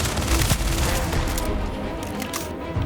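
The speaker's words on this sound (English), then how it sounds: "So what I like to do is I use one of these EM guns." An EM gun fires in the Starfield video game, a dense, continuous burst of rapid shots that is loudest at first and then thins out and fades over a few seconds.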